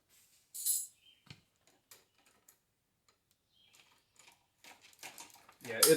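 A worn 9/16 gear wrench ratcheting during reassembly of a Cub Cadet 1882 steering spindle: quiet, scattered ticks and short clicking bursts against near silence, ending in a louder clatter.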